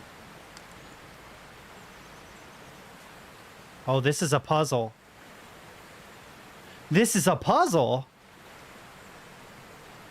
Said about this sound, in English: you can't have me not explore where there's a waterfall. It sounds so good.